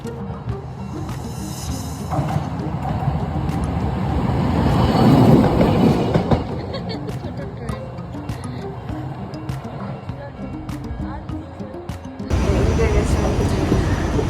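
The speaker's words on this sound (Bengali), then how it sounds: "এক বগির একটা ট্রেন চুকচুক করতে করতে চলে যাচ্ছে" A single-car train passes a level crossing in Japan, its rumbling run swelling and fading over steady outdoor background noise, close and loud.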